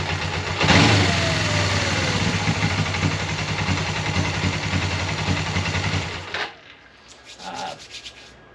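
A 1989 Suzuki GS500 motorcycle engine idles after the choke is set, a steady mid-pitched running rumble that holds loud and unbroken for about six seconds, then cuts out, leaving quieter faint sounds.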